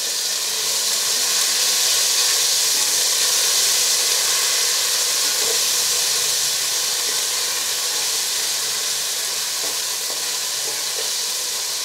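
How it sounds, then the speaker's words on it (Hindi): Ginger garlic paste fries with onions in a pan, producing a loud, steady, continuous hiss and sizzle close by, with a few faint stirring clicks and no talking. "दो चम्मच भर के मैं इसमें अदरक लहसन का पेस्ट डाल रही हूँ इसे भी थोड़ा प्याज के साथ फ्राई कर लेते हैं"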